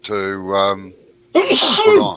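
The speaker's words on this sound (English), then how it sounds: "My sneezes come in threes." A single loud, close sneeze bursts out after a few spoken words, sharp and breathy, ending the short clip.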